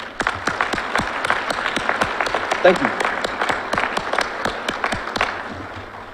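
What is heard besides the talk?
audience applause for fire recruit graduates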